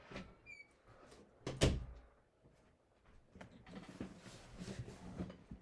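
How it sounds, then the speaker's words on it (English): A room door being closed, a single thud with a brief squeak in quiet surroundings, followed by faint rustling and shuffling nearby. "Let me just close my door."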